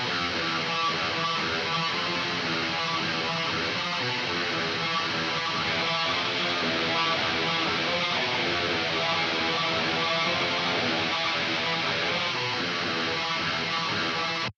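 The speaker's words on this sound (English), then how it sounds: "Cleaning up the guitar would sound like this." Distorted black metal rhythm guitar, tidied with EQ to remove honk and resonance: a thick, continuous wash of rapid tremolo-picked chords, loud and steady throughout, with no voices.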